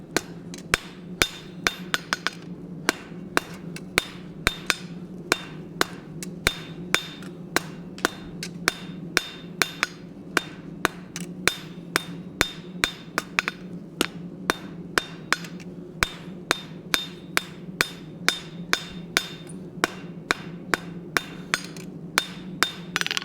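A blacksmith hammers metal on an anvil, striking in a long, steady series of sharp, ringing blows, sometimes in quick doubles, over a low continuous hum from the forge, with no talking.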